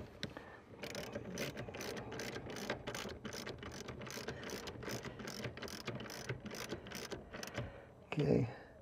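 A socket ratchet tightens a seat bolt in a 2021 Toyota Tacoma, giving a quick run of close, crisp clicks in steady rhythm followed by a short thud.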